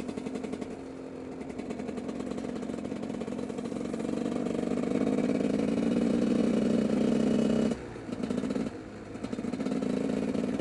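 A car engine runs steadily nearby with a rough, pulsing drone in fifth gear that grows louder midway, briefly dips twice near the end, then resumes.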